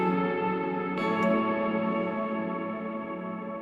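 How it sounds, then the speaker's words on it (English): Electric guitar played through an ambient reverb set to zero pre-delay, its sustained chord washing out immediately into a lush, shimmering tail, with a brief bright pick attack partway through as the ringing notes slowly fade. "Zero pre-delay. The reverb comes in immediately."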